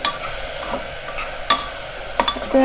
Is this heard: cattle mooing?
no